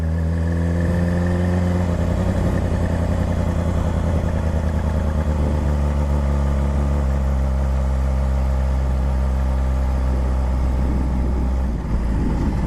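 A 600cc motorcycle engine revving up as the rider pulls away, a loud, close, steady drone whose pitch climbs through the gears and then settles.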